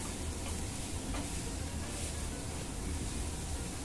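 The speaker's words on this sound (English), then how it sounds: "beef mince and onion, garlic, ginger, I make little saute" Beef mince, onion, garlic and ginger sauté in a pan, giving a dense, even, faint sizzle that runs unbroken for a few seconds with no talk.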